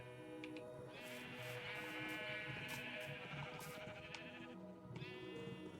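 Sheep in Minecraft give a clear, wavering bleat that holds for several seconds, followed by a shorter second bleat, heard alone and fairly quiet.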